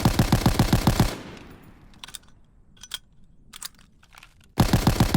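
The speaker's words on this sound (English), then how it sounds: "It is a slow-firing automatic rifle" AVS-36 automatic rifle firing in the Call of Duty video game, two loud bursts of rapid, evenly spaced shots with ringing decay and a few faint clicks between them.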